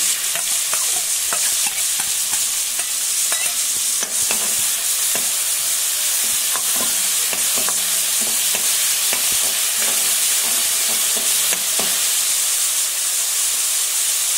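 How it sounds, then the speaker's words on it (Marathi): Chopped onion frying in hot oil for dal khichdi, added after a mustard seed and cumin tempering: a loud, steady sizzle with scattered stirring clicks throughout, and no talking. "कांदा घालूया।"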